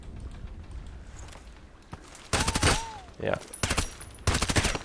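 Suppressed MP5k fire in the shooter game Contract Wars comes in three short, muffled bursts of rapid shots after a quiet stretch, with a brief spoken word from a player.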